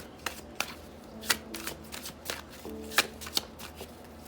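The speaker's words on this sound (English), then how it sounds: "I'm gonna pull another card." Tarot cards riffled and shuffled by hand, a close run of crisp flicking and slapping bursts with short pauses between them, with a brief faint voice underneath.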